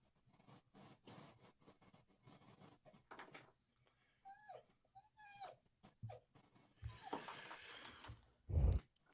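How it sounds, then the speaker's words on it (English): A dog needing to go out to pee whimpers in short high-pitched whines between quiet pants and scratching, with a louder thump near the end. "this poor dog, she's got to go pee real bad."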